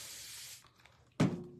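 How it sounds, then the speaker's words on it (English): A quick, sharp burst of a spray bottle misting cleaner, loud and close, preceded by a softer steady hiss and quiet shuffling. "All right, so I'm going to spray it."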